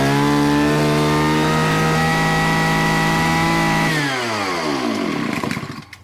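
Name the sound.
Shindaiwa T231 trimmer engine pull-started and running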